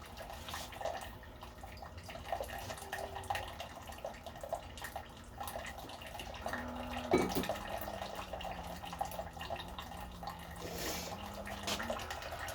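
A Keurig coffee maker runs water through its spout during a descale cycle. The result is a steady, faint stream of trickling and splashing with a low hum behind it, and a brief clunk partway through.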